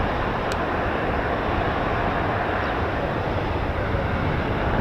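A military aircraft roars continuously as it departs from an air base, a broad, steady engine noise with no voices.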